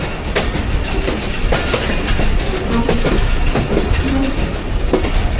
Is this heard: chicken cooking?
no